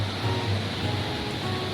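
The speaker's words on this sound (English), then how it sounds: "seeing those waves" Ocean surf at Galle Fort, Sri Lanka, at sunrise, a steady, full rush of breaking waves that washes on without pause, with no voices.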